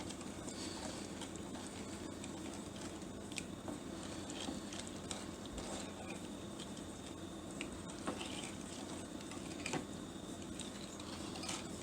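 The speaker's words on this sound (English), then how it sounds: "But you can see when you're stirring it, it's becoming less and less watery" Spoon stirring homemade dandelion jelly in a pot as 4.5 cups of sugar slowly dissolve, a soft, steady scraping and faint bubbling that runs quietly and evenly throughout.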